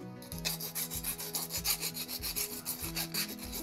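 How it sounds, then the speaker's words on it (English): A small half-round file rasps back and forth in quick, steady strokes, close and quiet, cleaning burrs off a homemade camera shotgun mic shock mount part. "Taking a little semi-circle file and I'm just getting in there, cleaning out those burrs"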